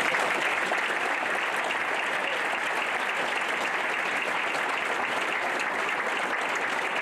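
A gala audience at the 2014 Windsor Shad Derby gives a round of applause, with dense, continuous clapping at a steady level throughout.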